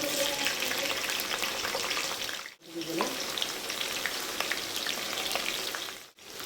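Chopped onions frying in oil in a kadai on a stove, with a steady close sizzle that drops out briefly twice, as if stirred or lifted off the heat.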